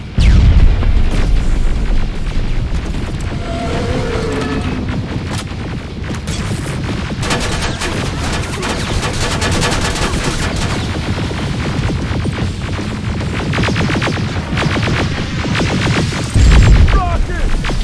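Gunfire and explosions from the Terminator Resistance video game form a loud, continuous barrage of booms, rapid shots and rumbling blasts, with heavy hits at the start and end and shouted voices mixed in.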